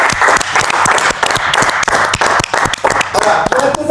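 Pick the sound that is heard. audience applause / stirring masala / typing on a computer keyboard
audience applause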